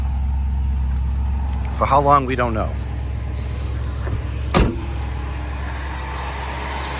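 A 1978 Lincoln Continental Town Car engine runs with a smooth, steady low hum throughout, close by, while someone speaks briefly over it.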